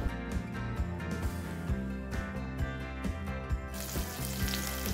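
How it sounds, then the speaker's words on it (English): Tofu fries in hot oil for a simple Thai dish, a continuous close sizzle with bursts of crackling spatter throughout. "Rest is getting fried here."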